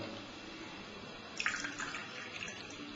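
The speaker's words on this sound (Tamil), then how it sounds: "இப்ப இந்த கப் அண்ட் சாசர்ல கப்ல நான் தண்ணி ஊத்த போறேன்." Water trickles and splashes as it is poured into a cup resting on a saucer, a soft, close, quiet stream that brightens midway through and runs without voices.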